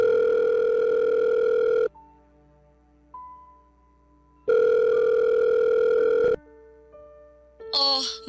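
A telephone ringback tone sounds while a call is placed, two long loud rings separated by a quiet gap, ending with a brief higher electronic chirp.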